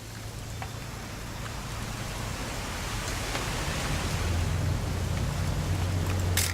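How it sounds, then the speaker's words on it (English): Steady rain in the video game What Remains of Edith Finch hisses continuously, growing slightly louder over several seconds, with a few faint taps and a low rumble underneath. "It's gonna rain the whole weekend"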